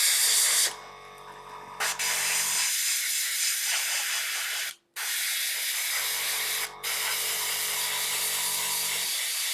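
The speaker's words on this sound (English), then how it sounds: "Let the airbrush do the fade for you." An airbrush hisses steadily up close, spraying black paint over red on a Warhammer Warcry miniature, with the airflow cutting out briefly a few times before resuming.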